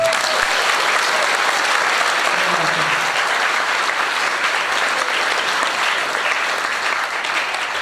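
A school hall audience at an Isra Mi'raj commemoration breaks into loud, dense applause, a sustained roar of many hands clapping at once that holds steady and only slightly eases toward the end.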